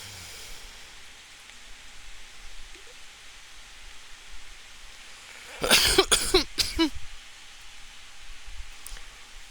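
A smoker's harsh cough bursts out in a cluster of several rough, close hacks after a quiet stretch of faint background hiss.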